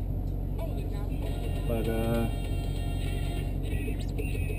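A 2012 Jeep Grand Cherokee SRT8 driving with no muffler, heard from inside as a steady loud engine drone and road rumble, with someone talking over it.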